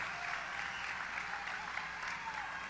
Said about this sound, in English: Let's give all our contestants another round of applause